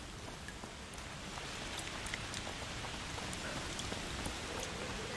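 Steady rain pours in A Plague Tale: Requiem, a dense even hiss of falling drops with scattered brighter droplet ticks, constant and fairly soft throughout with no voices.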